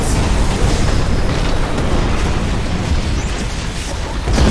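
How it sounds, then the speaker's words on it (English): Dense, continuous rumbling blasts and booms roll on without a break, a loud wall of cinematic explosions with no voices. "the explosions start coming and they don't stop coming"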